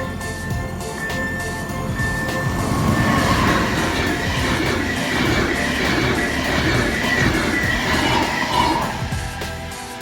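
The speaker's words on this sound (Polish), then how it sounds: "Przełom pociąg ekspres Intercity relacji Rusow Główny Warszawa Wschodnia." An express Intercity train passes a level crossing in Zębice, Poland, at up to 160 km/h, rumbling wheels and clattering carriages loud and close throughout, with a brief high tone near the start.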